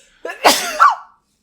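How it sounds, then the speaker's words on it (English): A single loud, close sneeze bursts out with a sharp intake and explosive release lasting about a second, followed by quiet. "I wanted to acknowledge my gigantic sneeze I just did."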